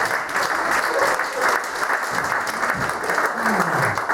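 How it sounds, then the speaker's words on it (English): Steady applause from a comedy club audience, continuous clapping at an even level throughout with no pauses. "Round of applause, ladies and gentlemen."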